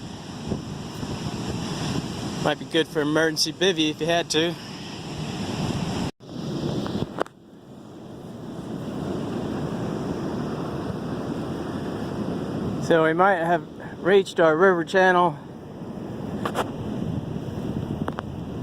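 Ocean surf breaks continuously beside a grassy spot on a Cyprus beach along the E4 trail near Paphos, a steady roar mixed with wind buffeting the microphone while someone talks at intervals.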